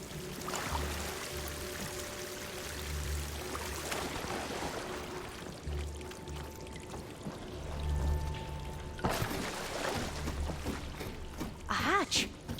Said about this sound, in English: Alright, more and more water, which I don't like.